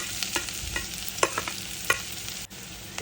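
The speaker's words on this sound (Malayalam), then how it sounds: "സവാള ഇട്ട് കൊടുക്കുക ഒരു ക്യാരറ്റ് കൂടി ഗ്രേറ്റ് ചെയ്തത് ഇട്ട് കൊടുക്കുന്നുണ്ട്" Onion and grated carrot are sautéed in butter in a hot pan, with a soft sizzle under repeated close scrapes and taps of a spoon stirring the vegetables.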